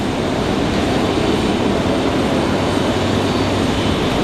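An Embraer E175 jet arriving from Toronto at Raleigh-Durham International Airport produces a loud, continuous roar that holds steady from start to finish without any voices.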